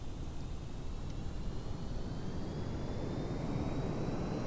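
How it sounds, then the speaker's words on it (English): Steady, continuous roar of nuclear-powered jet engines on a plane in Kerbal Space Program, dense and unchanging at an even loudness, with no talk over it. "Well, we do have nuclear-powered jet engines."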